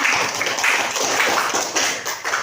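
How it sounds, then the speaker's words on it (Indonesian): Students clapping together in a classroom, a quick uneven patter of hands that is fairly close and moderately loud, running for a couple of seconds. "Beri tepuk tangan."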